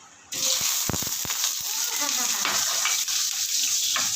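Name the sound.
butter frying in oil in a pan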